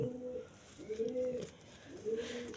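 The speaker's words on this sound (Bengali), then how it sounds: "এটা হলো রাজশাহী কবুতর" A Rajshahi breed pigeon coos in soft, repeated low phrases, three in a row, faint and close against a quiet background.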